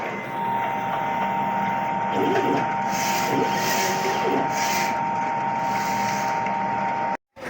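A DTF printer runs a nozzle test, giving a steady high electronic whine with soft mechanical shuffles and carriage movements, close and continuous before a brief cutoff near the end.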